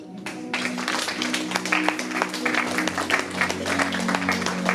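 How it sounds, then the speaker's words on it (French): A church congregation at a pastor's 70th anniversary celebration claps in a steady, unenthusiastic patter that runs on evenly without rising or swelling. "on est en train d'applaudir comme si on n'a pas vraiment envie, ou comme si on est fatigué"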